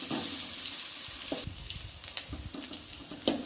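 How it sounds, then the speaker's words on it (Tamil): Onions sauté in a pan for South Indian potato masala to go with poori, a soft, constant sizzle overlaid with scraping, clattering stirring strokes that grow busier toward the end. "இப்போ வெங்காயம் நல்லா வதங்கிடுச்சு."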